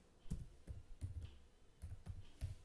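Computer keyboard being typed on quietly, a handful of soft separate key clicks in short irregular bursts, faint and close with no talk.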